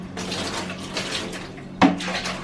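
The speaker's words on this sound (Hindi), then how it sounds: "और यहाँ पे मैंने बाथ टब लिया है, इसमें भी थोड़ा पानी डाल लूँगी।" Water is poured into a Luvlap baby bath tub with a continuous close splashing rush, ending in a sharp clunk near the end.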